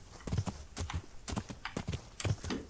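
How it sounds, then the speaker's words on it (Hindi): Horse hoofbeats while riding in the video game Kingdom Come: Deliverance, a quick, regular clip-clop of hooves at a smooth gait, close but quiet, with no speech. "वैसे अभी ये घोड़ा स्मूथ चल रहा है"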